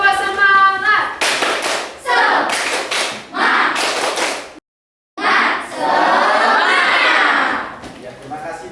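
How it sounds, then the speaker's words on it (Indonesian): A primary school class does a rhythmic clapping chant, with bursts of children's hand claps and voices chanting in patterned groups, a brief silent pause, then another loud burst of claps and chanting. "mari kita lakukan tepuk semangat."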